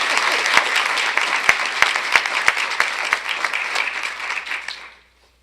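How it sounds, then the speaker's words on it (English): Audience applause at a school board of education meeting, a steady burst of clapping with some sharp individual claps standing out, tapering off and fading to silence near the end. "let's applaud for her anyway"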